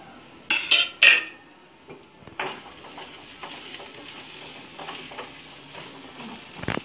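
Onion roasts in a pan for a dry coconut masala. A soft, continuous sizzle runs throughout, broken by a few sharp scrapes and clinks of a utensil against the pan near the start, and no voices.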